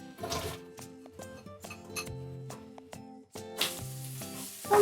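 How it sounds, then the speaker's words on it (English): Minced garlic and onions sizzle softly in oil for a sofrito, with light clinks of a utensil against the pan and a louder burst of frying near the end. "sofrito typically is going to start with garlic, minced garlic, and I'll put that in"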